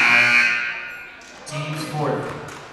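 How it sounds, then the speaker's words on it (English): A loud, harsh electronic buzzer blares at a high school girls' basketball game and then fades, followed by someone commentating with crowd noise in the background. "Buzzer blows"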